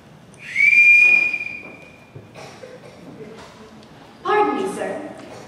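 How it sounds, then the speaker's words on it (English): A single sustained whistle blast rings out clearly during a high school stage musical, loud and held for about a second, with people talking before and after it. "I forgot to return this whistle, Captain."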